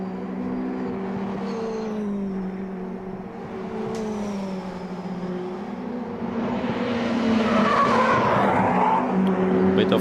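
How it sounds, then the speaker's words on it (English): Mitjet race cars circulate at a Riga circuit, a steady engine drone with a rising rush and brief tire squeal midway, heard under a commentator's voice. "Bit of tire screeching there"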